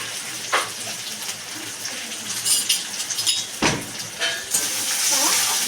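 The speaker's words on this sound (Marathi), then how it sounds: "पहिलं तेलात कांदा थोडासा भाजून घ्यायचा" Chopped onion, garlic and green chillies sizzle in hot oil in a pan. The frying hisses steadily, with occasional scrapes and clinks from stirring.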